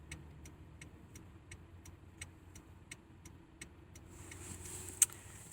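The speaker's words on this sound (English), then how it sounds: "So we're in the car." Inside a car driving home from a train station: a quiet, steady low engine and road rumble with a regular ticking click repeating about twice a second, and a brief rise of noise near the end.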